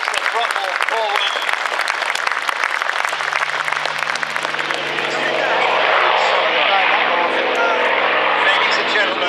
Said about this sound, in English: as Rob Davis puts the throttle forward